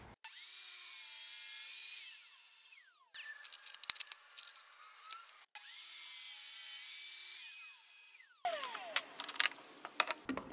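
Scrap wood is cut to length with a power saw: two sustained, loud whining cuts that rise and fall, each followed by clattering as the board is handled.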